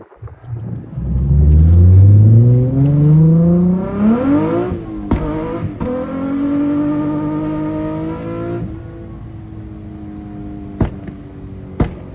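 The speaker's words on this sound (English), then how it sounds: "This car is moving." A car on coilovers accelerates hard through the gears, engine pitch rising steeply then dropping at each shift, loud and close, with a few clicks near the end.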